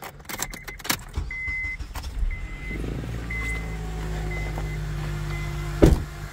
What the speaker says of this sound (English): So now the engine's running